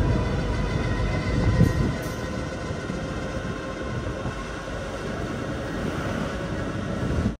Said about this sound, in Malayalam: പഴയങ്ങാടി റെയിൽവേ സ്റ്റേഷനിൽ നമ്മുടെ ട്രെയിൻ എത്തിയിരിക്കുകയാണ്.